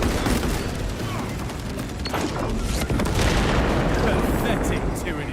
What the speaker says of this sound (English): Planting melter bomb.